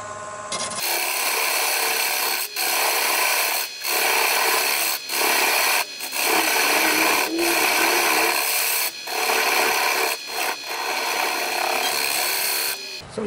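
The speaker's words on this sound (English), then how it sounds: "then I'll go ahead and cut the dovetail," A lathe tool cuts a dovetail into a spinning mesquite bowl at about 500 RPM, producing loud, close scraping rasps in repeated passes of a second or two, separated by brief pauses.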